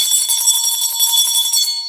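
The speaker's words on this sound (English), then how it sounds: "Husband, another bell." A bell rings continuously with a bright, sustained metallic tone, loud and close, pulsing in quick repeated strikes for about two seconds with no voices.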